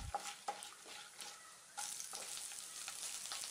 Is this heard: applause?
no